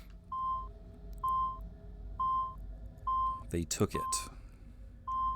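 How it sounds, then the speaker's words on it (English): Glyph puzzle locator in the video game Assassin's Creed 2 emits repeated evenly spaced electronic beeps, one roughly every second, with a brief burst of noise and a short spoken line in the middle. "The more intense the beeping gets, I guess, is where the thing is"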